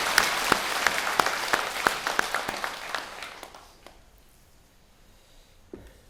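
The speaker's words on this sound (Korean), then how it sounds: "우리 수고하시는 모든 분들께 고맙다는 큰 박수를 한번 부탁합니다." An audience at a Sunday Buddhist dharma gathering bursts into applause, crisp claps dense at first and then thinning out and fading away to near silence within a few seconds, with one late clap at the end.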